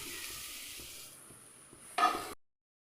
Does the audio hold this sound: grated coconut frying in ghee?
yes